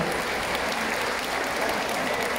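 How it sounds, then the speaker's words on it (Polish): Dense, continuous audience applause at a Women's Day ceremony held by a county office and a school in Kłobuck, Poland, loud and unbroken throughout. "jeszcze raz wielkie brawa dla pana Mariana Budy."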